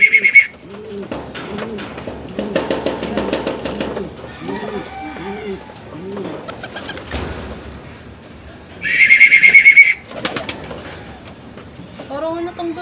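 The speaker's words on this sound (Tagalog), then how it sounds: "So pabain lang natin si Balileng, mga kalapatids." Several pigeons coo in low repeated bursts at a loft in Candelaria, Quezon during a mid-distance toss, with people talking nearby and a couple of louder bright chirps or whistles.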